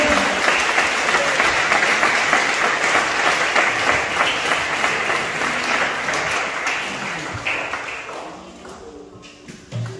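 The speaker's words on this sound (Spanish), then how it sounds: "vamos a darle un aplauso por los nuevos que vienen" Members at a monthly general meeting clap loudly for arriving newcomers, a close, dense burst of many hands that holds steady for several seconds, then thins out and fades, with a few scattered final claps.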